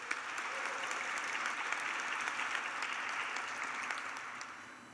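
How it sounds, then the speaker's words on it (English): Audience applause at a graduation ceremony after a speech, a sustained, even wash of many hands clapping in a large hall, fairly distant and fading slightly at the end. "I think we owe him a special applause for it."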